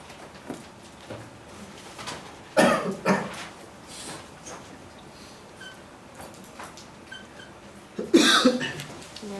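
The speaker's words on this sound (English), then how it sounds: "that was a cough" A person coughs during a chemistry lecture, with two harsh bursts spaced several seconds apart. They are close and fairly loud over a quiet room.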